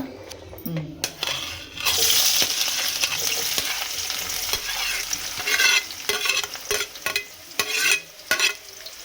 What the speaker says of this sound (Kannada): ಒಂದು 4 ಈರುಳ್ಳಿ ಹಾಕ್ಕೊಂಡಿದ್ದೀವಿ. ಈಗ ಇದನ್ನು ಫ್ರೈ ಮಾಡ್ಕೊಬೇಕು.